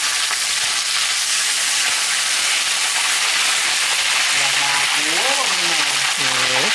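Oil sizzles and hisses steadily in a pan while chicken frames are deep-fried in a Thai kitchen, loud and continuous, with a voice speaking over the final seconds.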